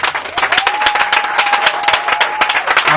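A church congregation claps in acclaim of the Lord, a steady, close burst of many hands applauding at an even pace for a few seconds.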